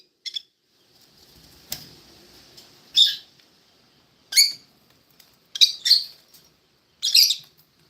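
Pet birds chirping indoors in bright, sharp calls, a handful of separate bursts spaced a second or so apart over near silence.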